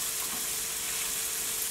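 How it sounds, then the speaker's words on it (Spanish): Okra sautéing in bacon fat with lime juice and being stirred gives off a steady, moderate broadband sizzle that holds evenly throughout, with no voices. "Ya sofriendo, le vertí el jugo del limón que les mostré y revuelvo"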